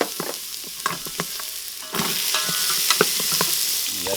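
Garlic and onion hitting hot oil in a Cosori pressure cooker pot: utensil clatter and stirring, then a sudden loud, steady sizzle that continues with scraping.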